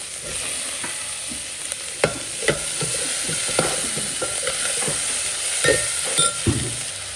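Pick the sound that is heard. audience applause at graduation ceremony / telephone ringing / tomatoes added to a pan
tomatoes added to a pan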